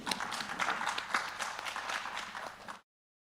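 Audience applause for a speaker finishing a brief presentation on mental health patient care at a regional research symposium: faint, dense clapping that runs for under three seconds and then cuts off abruptly.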